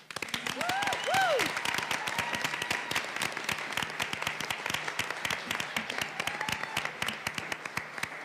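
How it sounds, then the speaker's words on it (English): Audience applause at a school district board meeting honoring Teachers of the Year, steady broadband clapping from a room of people sustained throughout, with a few rising whistle-like cheers near the start. "One more round of applause."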